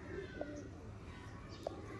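Sialkoti breeder pigeons coo faintly in the background over a low, steady hum, with a couple of brief sharper chirps standing out.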